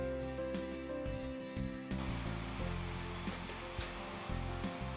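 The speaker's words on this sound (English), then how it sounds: "A sleeve is applied, then run through heat to shrink it onto the cone." A heat shrink tunnel shrinks a sleeve onto a thread cone on a packaging line. It gives a steady, loud, blowing roar like a big hair dryer, with a few clunks and knocks from the machine on top.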